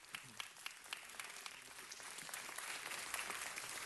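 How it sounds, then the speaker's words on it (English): An audience at a city council meeting breaks into steady applause, many hands clapping in a dense, continuous patter that swells slightly toward the end, with no speech over it. "Let's give them a round of applause."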